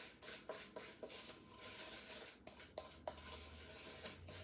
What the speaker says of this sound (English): And then stir it up. Make sure everything's coated.